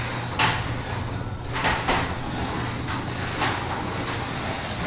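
A garage door rolls open with steady broadband rumbling and hiss, marked by several clattering surges and jolts as the panels travel along the track, fairly loud and close with no talking.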